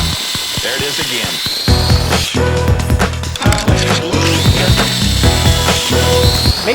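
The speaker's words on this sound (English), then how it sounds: "Make sure that you're keeping track of which side you're drilling the pocket holes on." A power drill bores pocket holes in wooden boards for a cornhole board frame, with bursts of whirring and ratcheting clatter, loud and close, and clanks between them.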